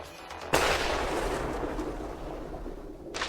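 A missile strike hits a Russian combat vehicle in wartime, landing as a sudden heavy blast that decays into a long rumbling roar, with a second sharp bang at the very end.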